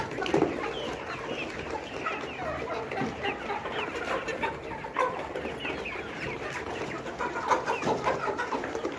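A flock of layer hens on a farm keeps up dense, continuous clucking and chatter at close range, with overlapping calls and no talk.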